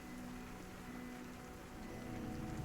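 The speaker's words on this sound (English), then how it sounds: "Listening to the rain outside." Steady rain falls outside, a continuous soft hiss of drops on surfaces that holds at an even, fairly quiet level throughout with no voices.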